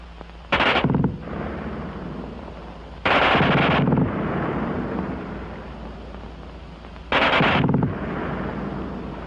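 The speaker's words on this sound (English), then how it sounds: "Nobody but the replacement, who can't get over the fast burp of that German gun." Bursts of a German machine gun rattle in battle, three short loud rapid-fire volleys a few seconds apart over a constant low rumble of combat noise.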